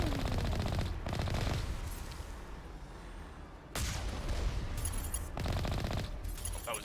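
Rapid automatic gunfire in Mass Effect, loud continuous bursts broken by brief pauses, heavy and close throughout.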